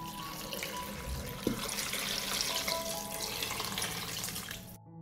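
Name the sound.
pouring a liter of water into pot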